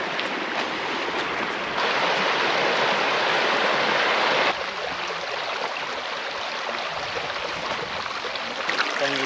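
An Icelandic river flows through a shaded spot, its loud, steady rush of water filling the whole stretch with no voices. The level shifts slightly twice along the way.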